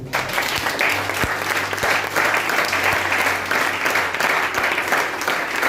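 A church congregation applauding the Lord during a Sunday service, sustained dense clapping from a large crowd filling the room steadily throughout, with faint voices mixed underneath.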